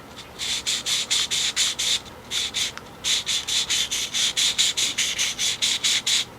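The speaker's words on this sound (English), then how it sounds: "clean that lightly, go around, because you want to clean any kind of grit or grime on that valve" A CVT transmission valve body valve scrubbed clean by hand, a rapid series of close, loud rasping strokes in quick bursts with a short pause partway through.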